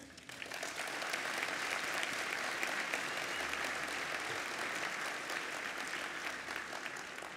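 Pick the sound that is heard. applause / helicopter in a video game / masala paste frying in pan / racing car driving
applause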